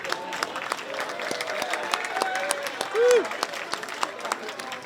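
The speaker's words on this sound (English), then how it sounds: "Round of applause for our kitchen crew." Applause from diners at an Elks club Irishman of the Year dinner, given for the kitchen crew: scattered, moderate clapping with crowd murmur and background voices, a brief tonal squeal near the end.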